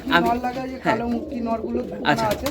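Andhra pigeons kept loose in a loft coo repeatedly up close, partly mixed with a person talking.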